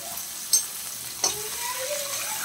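Chopped coconut pieces sizzle in a pan of hot oil, a steady soft frying hiss broken by two brief clinks of a stirring utensil.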